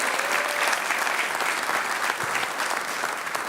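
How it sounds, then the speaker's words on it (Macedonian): A stand-up comedy festival crowd in Macedonia gives a comedian a full, dense round of applause, loud and steady throughout with little variation. "Задржете го аплаузот за Никола Братуче Силјановски."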